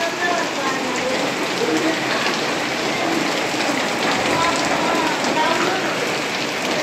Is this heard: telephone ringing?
no